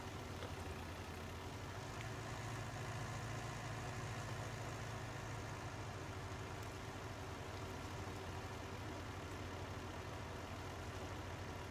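A tractor engine idles in Farming Simulator 19, giving a low, steady, quiet hum with a faint whine that stays unchanged from start to finish.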